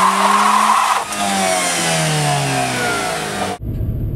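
A 2013 Dodge Dart's 2-liter four-cylinder engine revs hard in a burnout attempt, pitch climbing and falling with a brief tire squeal, close and loud before cutting off abruptly near the end.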